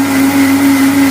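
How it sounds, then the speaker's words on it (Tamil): A mixer grinder runs steadily, blending beetroot, apple, ginger and mint with water, a continuous close motor whine with no break. "இப்போ இதை மூடி இப்போ இதை வந்து மிக்சியில் அடிச்சுக்கிடுவோம்."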